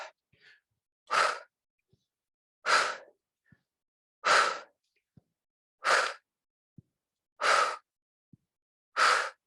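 Six deep, forceful breaths during a resistance-band bootcamp workout, evenly spaced about a second and a half apart, close and loud, with quiet gaps between them.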